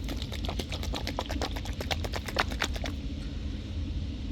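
Liquefied hand cream sloshes and clicks inside its container as it is shaken up close, a quick run of rhythmic knocking pulses for about three seconds before settling into quiet background noise.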